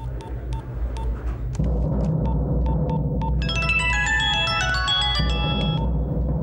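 A telephone ringtone plays as a bright, repeating electronic melody that rises partway through. It sits over a low, steady background drone and a faint ticking pulse, and no one speaks.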